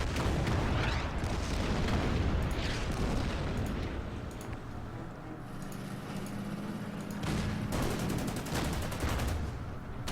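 Bombing strike in the Order of Battle: Endsieg wargame, a dense run of booming blasts and rapid gunfire-like bursts that roll continuously for the whole stretch, heavy and loud, with no voices.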